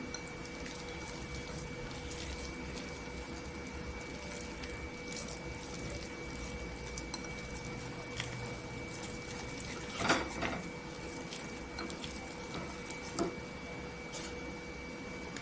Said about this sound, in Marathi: कमी कमी पाणी टाकून घ्यायचं जास्त पाणी टाकायचं नाही